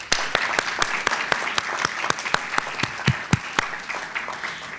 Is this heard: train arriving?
no